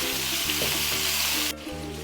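Onions with tomato paste frying in a pan, a loud continuous sizzle with stirring scrapes, the hiss dropping sharply near the end as the heat or pan is disturbed.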